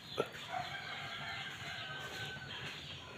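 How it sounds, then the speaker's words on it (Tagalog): Chickens cluck and call close by in Zambales, Philippines, one brief sharp cry near the start followed by steady low fowl chatter against a busy background. "pasaway itong mga manok kaya tatakpan ko to"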